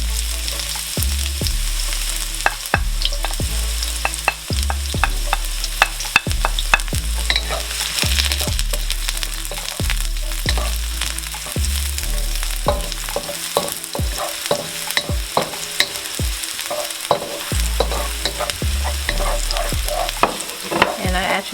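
Shallots frying in vegetable oil in a hot pan over medium heat, a steady loud sizzle broken by repeated stirring scrapes and clatters throughout, no talking.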